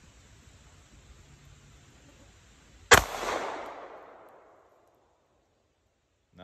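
A single sharp gunshot from a Springfield 9mm pistol cracks out outdoors after quiet background hiss, followed by a short reverberant decay and the start of another shot at the end.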